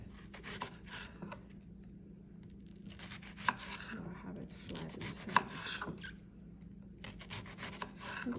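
A knife saws through a rosemary bread sandwich in a series of soft, close rasping strokes, faint and uneven, with small knocks as the blade works through the crust.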